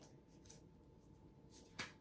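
A quiet riffle of tarot cards being shuffled, a few soft flutters ending in a crisp snap, close by in a hushed room.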